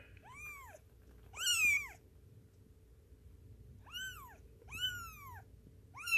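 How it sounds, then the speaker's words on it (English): A cat gives about five clear, drawn-out meows, close and fairly loud, spaced irregularly over a faint background hum. "when she gives that kind of meow, Shelby comes running"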